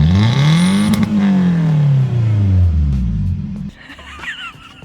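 A first-generation Scion tC fitted with a Greddy exhaust revs up close: the engine climbs to a peak, then slowly falls away into a low rumble before settling to a quieter idle with some mechanical rattle.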